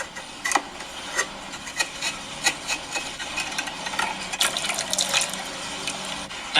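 A dull knife saws around the edge of an opened can in repeated short scraping strokes, a rhythmic metallic rasp close by with a brief burst of quicker strokes near the end.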